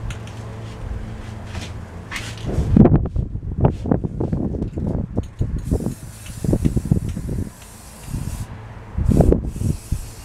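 Spray paint hissing onto the side mirrors and wheels of a pink van in short close bursts, with quiet pauses between passes and a faint rustle of wind in the background.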